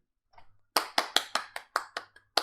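Sharp, close handclaps, about eight in a quick irregular burst, preceded by a faint murmur, with no other sound around them.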